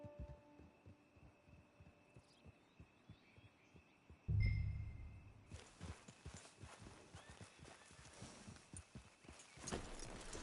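Horse hooves clip-clop at a steady walking pace in Red Dead Redemption 2, joined by a low thump partway through and rising ambient noise, with no speech.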